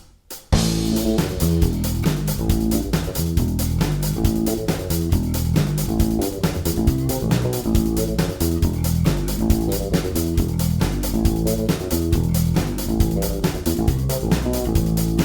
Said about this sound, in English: you could try speeding it up a little to the live tempo of 137 beats per minute, which sounds like this